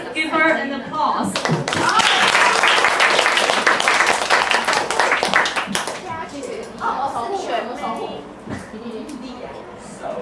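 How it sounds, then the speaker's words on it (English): Classroom audience of children and adults clapping for a student who comes up to speak, a dense burst of applause swelling for several seconds then thinning into scattered claps, with voices and kids' chatter mixed in. "Let's give her an applause."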